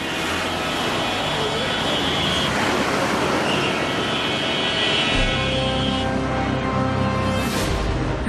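Airplane passing overhead, a loud, broad roar rising and sweeping across the sky, mixed with street traffic noise in Djibouti.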